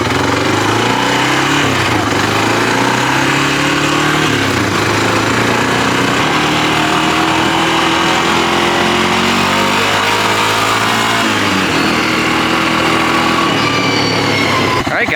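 A classic Honda ATV engine running during a test ride, loud and close, revving up and down in repeated rising and falling sweeps, with a voice briefly heard over the engine.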